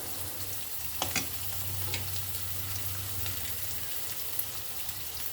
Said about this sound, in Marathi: छानसे परतून घ्या तेलावर काही अद्रकचे तुकडे आहेत